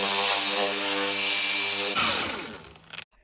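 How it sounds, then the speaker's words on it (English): A power buffer polishes a headlight with polishing compound, a loud, steady whirring tone that winds down about two-thirds of the way through, followed by a brief clatter and then silence. "Just apply some extra compound, smear it all over the place,"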